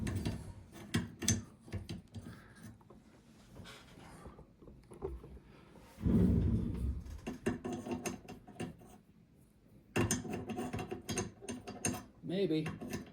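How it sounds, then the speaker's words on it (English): A bolt slides and clicks into a 6mm Dasher rifle action in a few metallic bursts of rattling and ratcheting, close and moderately loud, separated by quieter handling pauses. "we're going to go ahead and throw our bolt back in"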